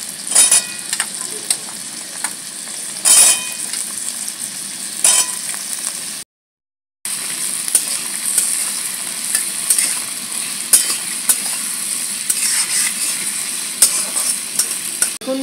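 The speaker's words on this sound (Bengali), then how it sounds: "পেঁয়াজটাকে একটু নেড়েই এর মধ্যে দিয়ে দেবো আলু। একসঙ্গে পেঁয়াজ আর আলু" Onion and potato frying together until brown for a cabbage dish, a steady hiss of oil with intermittent scraping and stirring strokes, close up, briefly cut to silence midway, no speech.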